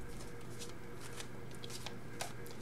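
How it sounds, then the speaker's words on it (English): A deck of Romance Angel Oracle cards is shuffled, with soft papery riffles and flicks close by over a steady low background hum and no talking. "let me get the Romance Angel Oracle deck cards drawn as well."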